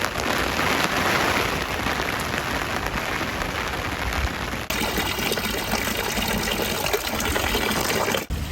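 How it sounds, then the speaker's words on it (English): Steady rain falling on stone stairs in Braga, northern Portugal, a dense continuous hiss that stays loud and close throughout, with no voices. "It's still raining, as you can see"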